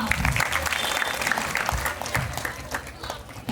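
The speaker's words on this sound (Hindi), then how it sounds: "भारती दी के एक बार जोरदार तालियां।" Applause for Bharti Didi at a Tulsi Pujan gathering, a crowd clapping steadily with a speaking voice over it, tapering off near the end.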